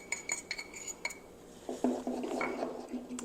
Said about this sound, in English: we're going to whisk in 1/4 cup of cornstarch